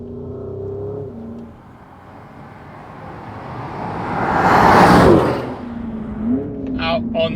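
A Porsche Cayenne Turbo GT E-Hybrid with the GT package driving on a race circuit, its engine droning and rising in pitch as it accelerates, swelling to a loud roaring whoosh midway, then settling back to a steady hum.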